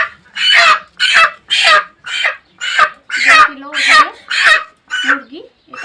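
A live rooster confined inside a bag clucks loudly and close by in a steady series of about ten rhythmic bursts, with agitated squawks toward the end.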